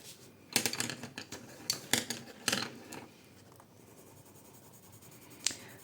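Castle Arts colored pencils scratching across paper in short strokes, a close cluster of crisp scrapes followed by quieter shading and one last sharp stroke, with no voice.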